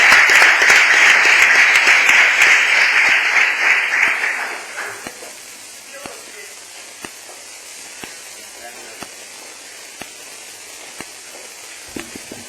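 Audience applause after a presentation at an academic conference panel, a loud burst of dense clapping that fades out after about four seconds, leaving a quiet room with a few isolated knocks.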